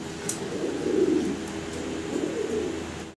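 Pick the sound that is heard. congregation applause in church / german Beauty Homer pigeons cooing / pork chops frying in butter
german Beauty Homer pigeons cooing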